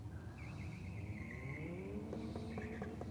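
A Mitsubishi Colt drag racing car idles and blips its engine at the start line, a faint, distant revving with rising and falling tones under crowd and track ambience.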